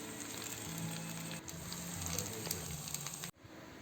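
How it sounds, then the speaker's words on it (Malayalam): Pearl spot fish (karimeen) frying in a pan, a steady close crackling sizzle that runs evenly and then drops off abruptly near the end, with no talk. "ഇനി ഇതൊക്കെ പൊരിക്കാനുള്ള തയ്യാറെടുപ്പിലാണ്."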